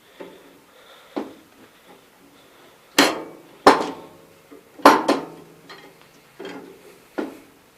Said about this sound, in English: Got the old trusty framing hammer. It might be a 24 ounce, I don't remember, but right down on there.